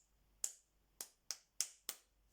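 Single pair of hands clapping a short rhythm during a call-and-response music game, five crisp, close claps spaced unevenly, alone against near silence.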